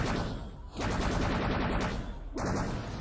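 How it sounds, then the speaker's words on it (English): Rapid main-weapon fire from the Phoenix II shooter game, a steady run of quick repeating shots broken by a brief gap, loud and up close. "So Trireme also really like the main weapon, fast firing"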